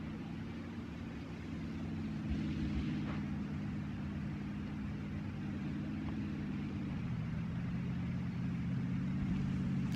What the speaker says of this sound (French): Ah, voiture, voiture, voiture.